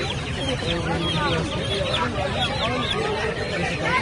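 Chickens cluck and murmur close by at a busy outdoor pigeon and poultry market, a dense continuous clamour of fowl with people talking over it.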